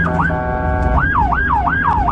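An ambulance siren wails loud and close in Istanbul's Şişli district, a rising and falling tone that repeats quickly and stands alone.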